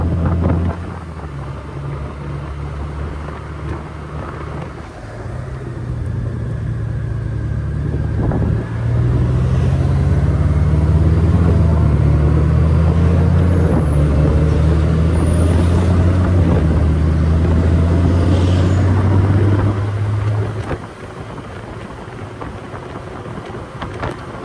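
A Honda Goldwing motorcycle cruising on a scenic route, its engine droning low and steady, rising in pitch and loudness midway under heavy wind rush, then easing off near the end.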